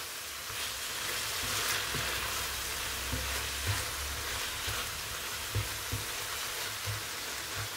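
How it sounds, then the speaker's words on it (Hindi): Chicken for Greek pies cooking in a pan, a dense steady sizzle like light rain with occasional faint stirring taps, close and even throughout, no voices. "इसको हम तब तक कुक करेंगे जब तक कि चिकन बहुत अच्छे से टेंडर नहीं हो जाता"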